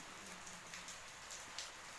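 Steady rain falling outdoors, a continuous soft patter with a few louder drops standing out, fairly close and alone without speech.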